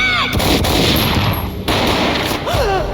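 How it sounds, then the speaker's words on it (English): In the video game Max Payne, a loud gunshot booms and rings out, filling the whole three seconds with a heavy, reverberant blast and echoing tail. "A gunshot boomed and she fell down in slow motion."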